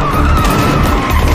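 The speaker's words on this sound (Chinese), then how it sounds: "两人开车逃离。" A car speeds away with its tires skidding and squealing in an action film chase, loud and continuous with engine roar throughout.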